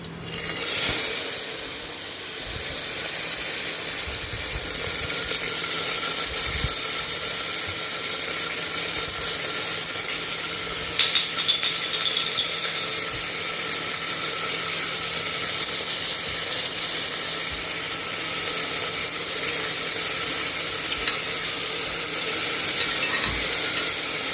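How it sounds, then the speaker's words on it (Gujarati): Washed cluster beans and potatoes cook in a hot pan with green chili and garlic, giving a steady loud sizzle with soft scraping and stirring throughout and no talking. "હવે ગવાર અને બટાકાને મેં ધોઈને મૂકી દીધા છે, એ નાખી દઈશું અંદર."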